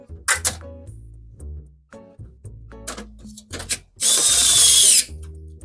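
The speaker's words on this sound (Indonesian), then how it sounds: "Bautnya ada 6. Nah, kita baut." Screws being driven into a PC case during a desktop build with a Ryzen 5 8500G: scattered clicks and ratcheting ticks from a screwdriver, then a one-second burst of harsh whirring, with a few short pauses between turns.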